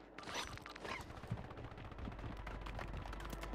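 Gunfire in a Call of Duty Resurgence match, quiet rapid bursts of automatic shots with scattered cracks throughout, distant and low in level, with no talking.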